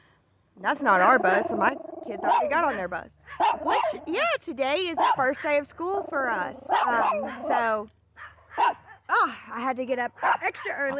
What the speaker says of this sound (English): Oh, my doggo's barking at the bus.